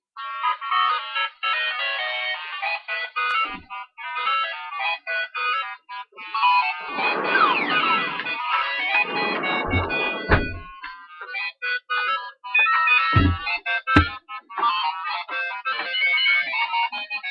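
A mobile phone plays a melodic ringtone loudly and close by, its tune repeating through the whole stretch with brief gaps, joined midway by a burst of rustling noise and a few dull thumps.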